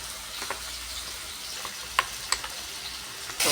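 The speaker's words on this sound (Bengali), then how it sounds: "ভালো করে লাল করে ভেজে নেব" Frying in a pan while cooking a prawn curry, a quiet steady sizzle with a few sharp crackles and pops, close and without voices.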